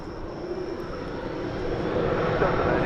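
A jet airliner takes off at DFW Airport, its engine roar a steady broadband rush that swells gradually louder toward the end, with no voices over it.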